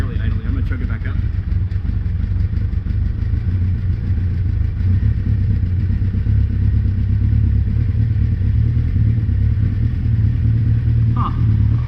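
A Kawasaki Concours motorcycle engine idles low and rough just off the choke, a loud, close, continuous clattering rumble.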